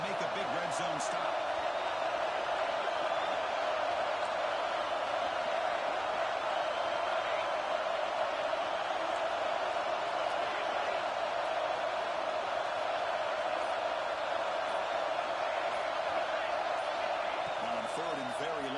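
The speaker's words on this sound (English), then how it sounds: "This crowd is trying to inspire this defense to make a big red zone stop." Dense, steady roar of a stadium crowd at a Texas A&M Aggies football game during a red zone defensive stand, a loud unbroken wash of noise lasting throughout.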